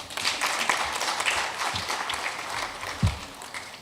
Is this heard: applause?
yes